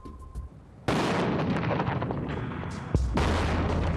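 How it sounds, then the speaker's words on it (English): A thermobaric charge detonates in the open near a mannequin, a sudden loud boom that erupts into a sustained roaring blast with a second heavy thump near the end. "Here's the explosion in slow motion."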